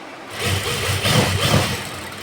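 A sewing machine stitches a suit neckline with a close, medium-loud motor whir pulsing in quick rhythmic bursts for about two seconds.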